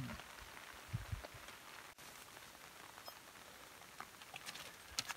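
Steady rain patters onto a frozen lake campsite on a small patch of land in winter, forming a dense, even hiss with occasional louder drops close by.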